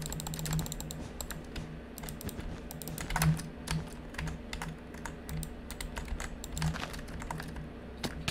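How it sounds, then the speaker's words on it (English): Rapid typing on a computer keyboard during a Bedwars game session, a steady stream of close, crisp key clicks with occasional louder strokes over a low background hum. "I'm trying to type here, I don't know what's happening."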